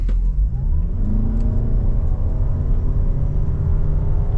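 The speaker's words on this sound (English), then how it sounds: "I can hear the petrol engine is charging the battery automatically" A steady, loud petrol engine drone with a deep rumble inside a moving 2025 Toyota RAV4 Hybrid as the engine charges the battery, holding an even pitch throughout.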